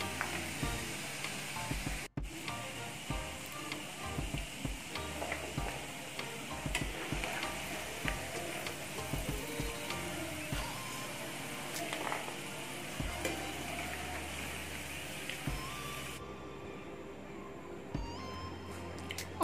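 Besan-coated masala peanuts frying in oil in a pan, a steady dense sizzle with crackling ticks and occasional stirring clinks, fairly faint and close, no voices.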